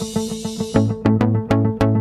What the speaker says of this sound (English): I probably don't want any pop music because it might sound like this.